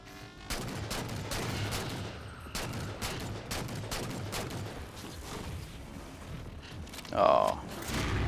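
Gunfire rattles steadily through a Halo 4 Spartan Ops firefight as rapid bursts and single shots. Someone talks over the shooting, which stays loud and close from start to finish.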